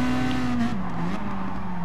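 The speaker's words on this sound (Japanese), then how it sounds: "後ろからなんかもうすごいキーキーキーキータイヤの音" Tires squeal with a steady, high screech behind a Peugeot in a driving video game, loud and continuous over the engine drone, with no talk.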